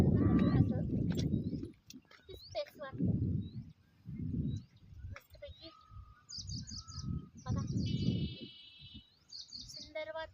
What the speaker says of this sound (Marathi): हे बघा पक्षी कसे ओरडत आहेत